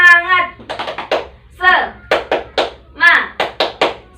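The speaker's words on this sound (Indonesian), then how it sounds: "Kita akan bertepuk tangan." Children in an Indonesian classroom clapping hands in a patterned rhythmic clap led by a teacher, short clustered bursts of claps alternating with chanted children's voices, close and loud.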